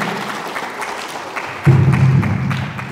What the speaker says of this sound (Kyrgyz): кыздар экенсиңер, кол чаап турасыңар